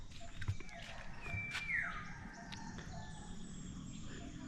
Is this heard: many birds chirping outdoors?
yes